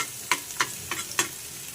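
Garlic and gourd peel fry in hot mustard oil, with four evenly spaced stirring scrapes over a soft, quiet sizzle.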